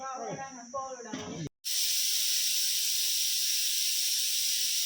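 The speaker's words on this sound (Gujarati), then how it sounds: "હવે 5 વાગે સીટી થાય કુકરની" A pressure cooker whistle lets out a loud, steady hiss of escaping steam that starts abruptly and keeps going, following a moment of someone talking nearby.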